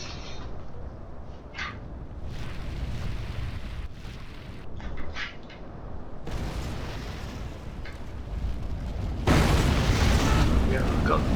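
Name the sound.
artillery bombardment explosions in video game Rome Total War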